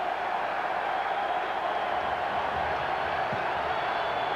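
A large crowd of about 76,000 at a college football Sugar Bowl game in the Louisiana Superdome, LSU against Nebraska in 1986-87, produces a steady distant roar of murmuring voices that stays even and fairly faint throughout.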